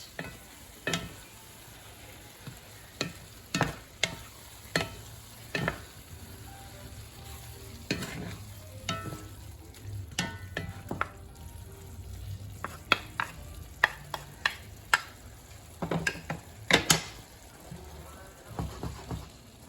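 Ground beef frying in a pan over medium to medium-high heat, a soft continuous sizzle broken by frequent sharp scrapes and clacks of a utensil stirring, close and fairly quiet.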